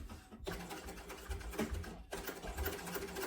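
Sewing machine basting foam into the stitching of a sling bag: a close, rapid mechanical chatter in short runs, broken by a brief pause near the start and another midway.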